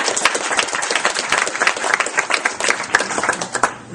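A studio audience breaks into loud, dense applause at a weight-loss program event, continuous hand clapping filling the whole stretch with scattered sharp claps and a few voices mixed in.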